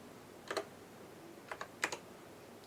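Keys on a HyperX Alloy Elite mechanical gaming keyboard click in sparse, crisp pairs and small clusters, fairly faint over a steady low hiss, with no talking.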